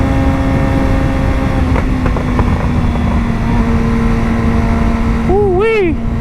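A Mazda Miata engine at a night car meet runs with a loud, steady droning hum close by, its tone holding level throughout, with a brief warbling vocal sound near the end.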